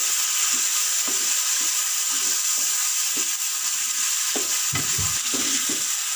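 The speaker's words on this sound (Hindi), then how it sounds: "चिकन को भून लेंगे।" Steady loud sizzling of chicken frying in a hot pan, with occasional scraping and stirring knocks beneath the hiss.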